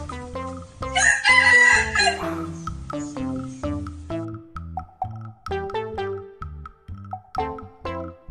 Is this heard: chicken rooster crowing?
yes